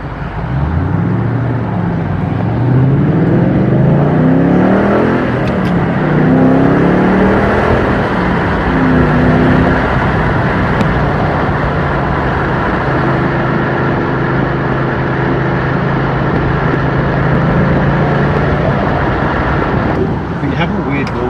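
A 2014 Ford Mustang GT engine runs loud and steady for the whole stretch, its pitch climbing and falling through several revs, with people talking over it.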